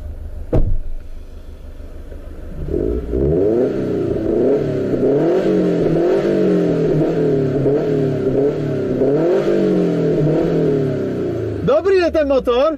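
An Abarth car engine revs hard and repeatedly, the pitch climbing and falling in rhythmic surges after a brief start, loud and close, with people talking around it.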